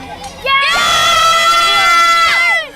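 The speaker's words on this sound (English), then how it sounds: "can you give everyone watching, all the children, everyone, a nice big cheer to show how much fun you're having today?" A small group of children at a countryside outing let out a loud, sustained shout of cheering lasting about two seconds, close by, after a brief bit of quieter sound.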